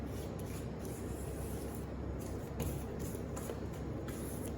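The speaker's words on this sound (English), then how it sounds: "Scrape it down" Spatula scraping down creamed lemon drizzle cake batter in a mixing bowl, a continuous close rubbing and scraping with a few light knocks, no talking.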